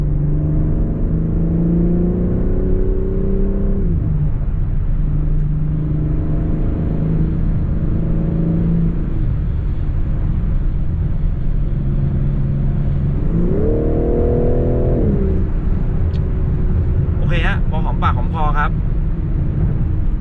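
A BMW M4 G82 sports car accelerating while being driven, its engine note climbing through gears in long rising sweeps, loud and close from the cabin over a constant road roar.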